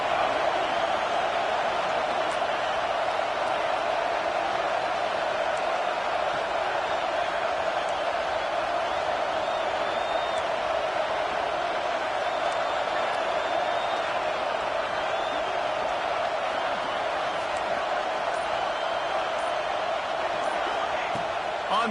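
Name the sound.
home crowd cheering at football game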